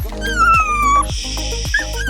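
A dog close by gives a few short, high yips and whimpering barks in quick succession, with a faint tonal whine running underneath, after a lake swim outdoors.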